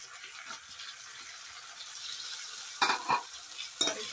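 Onions fry in a pan for a rajma dish, just before chopped home-grown tomatoes go in. A steady close sizzle runs throughout, broken near the end by a few louder scraping stirs.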